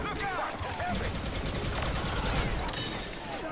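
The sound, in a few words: machine gun fire in a Star Wars video game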